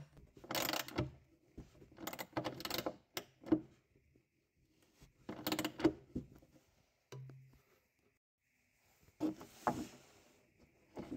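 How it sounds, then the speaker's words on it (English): A metal T-nut being pushed and tapped into a wooden dresser during leg assembly, giving several bursts of close knocking and scraping with quiet gaps between them and one short low thud partway through. "push that nut right in and I will put that T-nut into the wood, those prongs will go into the wood"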